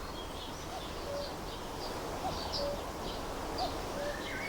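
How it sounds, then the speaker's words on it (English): A common cuckoo calls repeatedly in a garden, its soft two-note coo repeating at a steady rhythm, moderately distant over a hissy outdoor background. "Oh, can you hear the cuckoo?"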